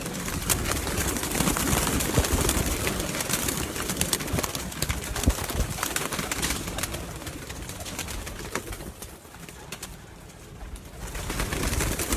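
Soft pigeon coos sound amid dense, constant outdoor noise, steady throughout with no voices.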